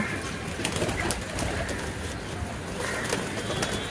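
Several pigeons coo in a low, steady murmur against a noisy background, their soft calls overlapping continuously.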